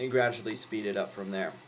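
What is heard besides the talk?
None of the usual background noises is heard.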